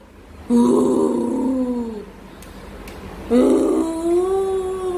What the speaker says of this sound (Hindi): जहां बोलने वाली शुरू हुई इसने भौंकना शुरू कर दिया